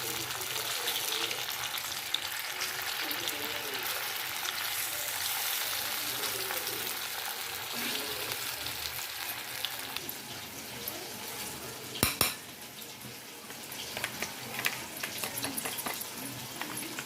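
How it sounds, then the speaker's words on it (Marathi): Paneer fries in a pan with a continuous, even sizzle of hot oil, close and fairly quiet, broken near the middle by a brief sharp clatter and a few small knocks. "आता हे दुसरं पण तळून घेणार आहोत"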